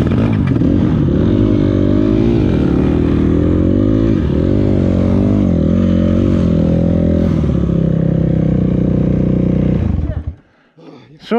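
A KTM EXC-F 350 dirt bike running close by, a loud continuous engine drone that rises and falls with revving for about ten seconds before cutting out abruptly.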